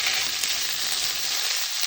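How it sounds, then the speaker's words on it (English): Leftover vegetables fry in a pan with a steady, close, bright sizzle that bubbles evenly throughout, with no talking. "I'm just frying them up until kind of bubble and sweet"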